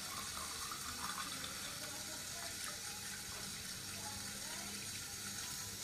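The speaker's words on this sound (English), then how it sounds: "this cup I'm going to use and pour it with water" Warm water poured from a cup splashes continuously into a basin while bathing a Syrian hamster, a steady close gushing wash with faint background murmur underneath.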